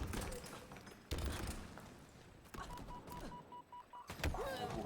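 Sniper rifle fired without scoping in Halo Infinite during a 4v4 tournament match: a few sharp, loud gunfire bangs spaced about a second or more apart, each cutting through busy game noise.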